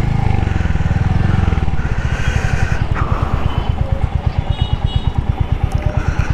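A 181 kg Hunter motorcycle is being ridden, its engine giving a loud, close, steady throbbing putter with a pulsing low rhythm that eases slightly as the speed changes.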